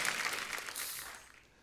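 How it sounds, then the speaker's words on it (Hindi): Applause from a studio audience at a Hindi comedy show, a dense wash of clapping that starts full and fades out over under two seconds. "जोरदार तालियां हो जाए"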